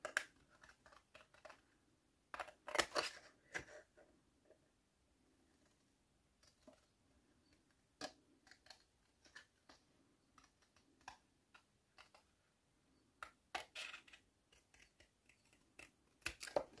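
Scissors snip through paper for a black-and-white scrapbooking card, with bursts of crisp close cuts and short pauses between them, all quiet and near.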